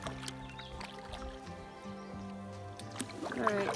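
A solo canoe paddles across McCraney Lake in Algonquin Park in the morning, with soft water swishes and drips from the paddle close by over a low steady hum.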